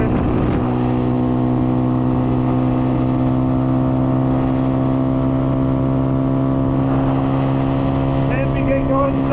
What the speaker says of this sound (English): It's pretty loud given how restrictive that muffler looks, honestly.